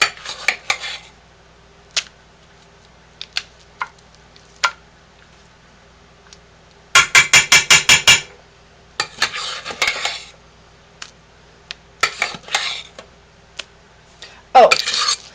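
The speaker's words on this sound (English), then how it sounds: "plopping the soap into the container. And swishing it around." Soap swished around inside a container for a survival kit: bursts of rattling, clattering knocks, including a fast run of rhythmic taps, separated by quiet pauses, close and fairly loud.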